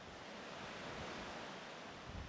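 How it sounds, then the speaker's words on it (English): The Jhelum River flows in full spate in the mountains, a steady broad rushing roar, soft and distant, with no break. "the full flow of the Jhelum River"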